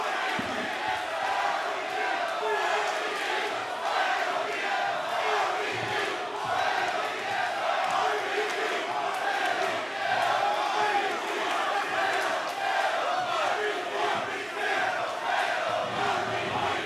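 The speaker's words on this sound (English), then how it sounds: "Every fan on their feet. Let's listen to this crowd." A wrestling crowd roaring before a title match, a sustained loud wall of cheering and chanting from a packed arena with shouts rising through it.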